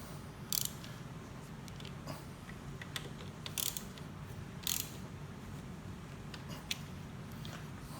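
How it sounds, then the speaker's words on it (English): A torque wrench tightens the bolts on an adjustable touring handlebar for a BMW K1600 motorcycle, giving scattered sharp metallic clicks over a low background hum. "you're going to use your torque wrench. You're going to set it to 18 foot-pounds"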